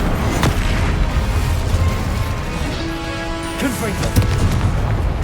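Incendio fire spell in the video game Hogwarts Legacy, a loud booming blast of flame with a crackling rumble that carries on for several seconds, a few sharp hits near the end.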